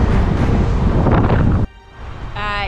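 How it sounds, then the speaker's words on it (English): Strong wind buffets the microphone on the windy Lake Ontario shore with heavy roaring gusts and crashing waves, loud and close, before the wind noise suddenly drops away and builds again. "It's really on the windy side today, so Lake Ontario is roaring with waves."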